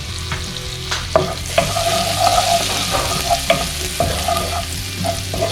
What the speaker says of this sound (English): saute for a minute.